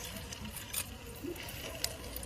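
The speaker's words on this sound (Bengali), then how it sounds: "তো আমি এখন দিয়ে দিচ্ছি ডুবো তেলে কাবাবগুলোকে" Shami kebabs deep frying in oil give a faint, steady sizzle with scattered tiny pops and crackles, close up and quiet.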